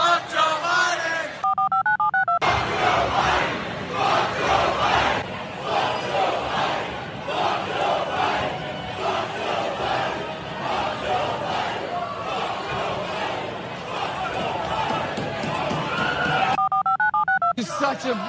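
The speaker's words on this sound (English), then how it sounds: "as you can hear the chants from the crowd, let's go, Brandon" A large crowd chants in unison at a stock car race, a loud, sustained roar of many voices with rhythmic shouted cadence, bracketed at both ends by electronic telephone-style tones and sharp cuts.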